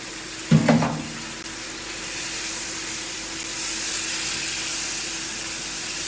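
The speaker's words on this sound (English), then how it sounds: "So I'm adding my garlic to my first pan." Garlic and a green shakshuka mix hit a hot pan with a brief burst of sizzle and clatter, then settle into a soft, steady frying hiss.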